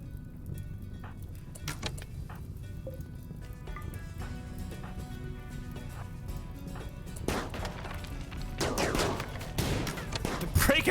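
Gunfire erupts during a RimWorld raid on a farming colony, sporadic shots under steady game noise that build into a denser, louder burst of rapid firing toward the end, with a voice speaking briefly.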